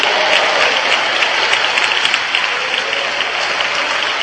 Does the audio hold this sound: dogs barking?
no